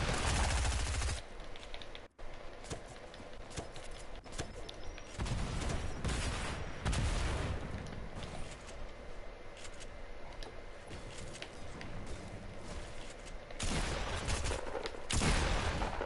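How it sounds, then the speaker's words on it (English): Gunfire from a video game, a three-round burst weapon firing repeatedly in short clustered volleys, loud and close, with brief gaps between bursts and no talking. "3-round burst does like 24 damage a shot, maybe?"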